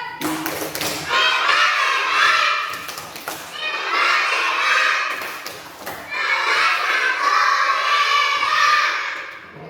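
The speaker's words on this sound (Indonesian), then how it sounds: "Sekali lagi tepuk hebat." A class of young schoolchildren performing the tepuk hebat rhythmic clapping cheer, shouting in unison over patterned claps in three loud bursts with short pauses between.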